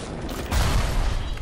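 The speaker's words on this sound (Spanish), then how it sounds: "Hostia, ha reventado todo." Explosion in the video game Bioshock Remastered, a sudden loud low rumbling burst that keeps roaring and crackling at full strength through the rest of the moment, following a quieter stretch of game ambience.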